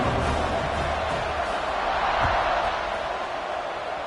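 A football stadium crowd at a college game gives off a dense, steady roar with cheering. It stays loud and continuous throughout, with faint muffled commentary underneath.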